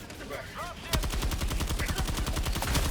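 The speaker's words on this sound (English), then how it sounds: "right now I'm using a stun gun" Rapid stun gun fire in the video game Helldivers 2, a steady fast train of sharp repeating pulses that starts abruptly and continues loud, with brief voice sounds just before it begins.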